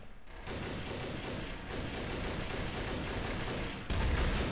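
Gunfire fills the Trouble in Terrorist Town game match in a dense, continuous rapid fusillade, loud and steady for several seconds before a heavier burst near the end, with no talking.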